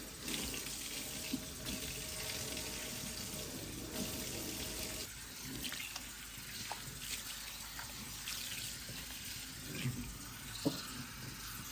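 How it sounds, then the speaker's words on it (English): Water runs steadily from a faucet into a kitchen sink during rinsing, a continuous hiss and splatter with small clinks and shifting splashes as surfaces are wiped under the stream. "Now you're going to give everything a good rinse, and you want to kind of wipe it down as you rinse it"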